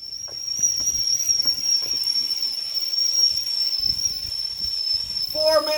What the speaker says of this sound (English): Four minutes and 30 seconds, and our water's boiling.